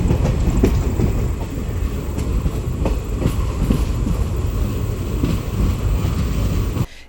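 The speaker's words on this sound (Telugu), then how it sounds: "ఇప్పుడే మన ట్రైన్ మేడ్చల్ రైల్వే స్టేషన్లోకి ఎంటర్ అవుతోంది" A passenger train rolls into Medchal railway station on the unreserved Medak–Kachiguda service, its steady wheel rumble and rhythmic clickety-clack carrying close and loud for the whole stretch, then cutting off abruptly at the very end.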